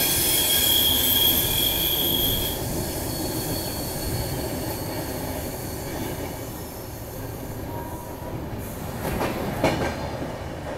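The 12015 Delhi Ajmer Shatabdi runs on the rails with a loud continuous rumble, high wheel squeal fading early on, and rhythmic clatter with a sharp burst near the end.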